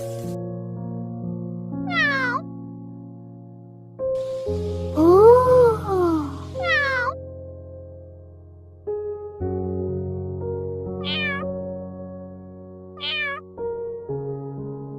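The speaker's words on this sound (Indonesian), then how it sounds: "Cuma kucing." Cartoon cat meows several times in an animated children's show, rising and falling calls standing out clearly over a steady music bed, with a pair of short meows near the start and two more toward the end.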